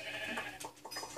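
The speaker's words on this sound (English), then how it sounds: "Oh, a brown sheep." A brown sheep in the video game Minecraft bleats in a short burst of quick, wavering calls, moderately loud with no talking over them.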